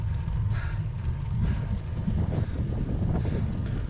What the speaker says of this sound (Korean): 살짝 바람이 불고, 이 바람은 순풍입니다.